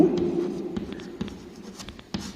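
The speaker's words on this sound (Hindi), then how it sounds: "तो मैं यहाँ पे लिखता हूं" Marker or chalk scratching across a board as a physics lesson on electric field intensity is written out, short strokes and taps in an irregular rhythm, close-up over a faint steady hum.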